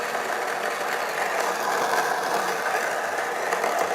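An xBloom Studio coffee machine grinds coffee at its lowest speed, giving off a steady, grainy, rattling drone at a constant level throughout, nearby and without talk.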